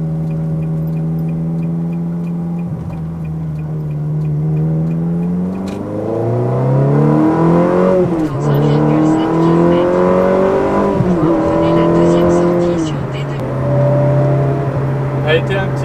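A warm Ferrari 360 with a reprogrammed F1 gearbox idles, then its engine revs hard through rising pulls with gear changes, loud and close from inside the car, with a voice speaking over it.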